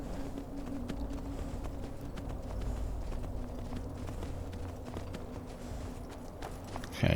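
Horse hooves clip-clop at a steady walking rhythm under a rider in the fantasy game Skyrim, with a low, continuous ambient drone underneath and no voices.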